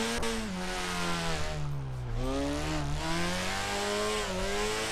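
A Subaru BRZ drifting in DRIFT21, the engine revving loudly and continuously with rising and falling pitch as throttle changes, tires hissing underneath.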